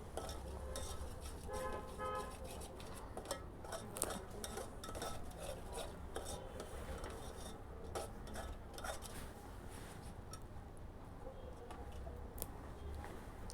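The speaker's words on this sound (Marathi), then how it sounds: "मसाले टाकून झाल्यानंतर व्यवस्थित त्या प्युरीमध्ये तेलामध्ये हे मसाले भाजून घ्यायचे आहेत" Household masala roasting in oil and tomato puree for a spicy pea curry, stirred in a pan: continuous soft sizzling with frequent quick scraping and clinking of a spoon, close but low in level.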